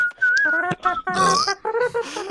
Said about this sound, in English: Terrible whistle cover.